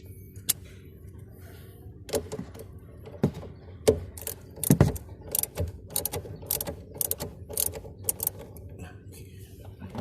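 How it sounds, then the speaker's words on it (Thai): Ratchet wrench tightening the negative battery terminal on a BMW F30 using a 10 mm socket, giving a series of sharp, irregular clicking ratchet strokes close by with pauses between bursts. "ต่อไปเดี๋ยวเรามาขันขั้วลบกัน ก็คือใช้ตัว ตัวเดิมเลยนะครับ เบอร์สิบ"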